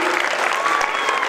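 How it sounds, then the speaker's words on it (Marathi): Audience applause for a performer at a village gathering in Shirdhon, a dense, steady clapping from a crowd filling the whole moment without a break. "कृपया याला सगळ्यांनी टाळ्या वाजवून दाद द्यावी"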